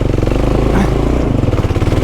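A Kawasaki KLR motorcycle pulls away from a rough spot with a loud, close, pulsing engine note that throbs steadily as it takes off.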